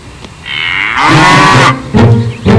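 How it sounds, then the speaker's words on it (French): A cow moos loudly and close, one long drawn-out low call followed by shorter bellowing bursts, with no talking over it. "Vache!"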